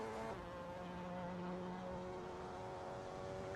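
A Mazda MX-5 race car in a sim racing game, engine droning steadily at a fairly constant pitch with a faint whiny tone, quiet and distant, no talking.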